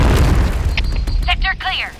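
A grenade blast in the shooter game Point Blank lands as a deep boom, followed by scattered game effects and voice chatter.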